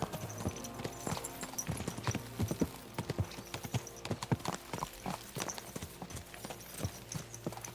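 Horse hooves clip-clop steadily on a road in Kingdom Come: Deliverance II, several horses trotting in an uneven rhythm close by over a constant background, with an occasional snort.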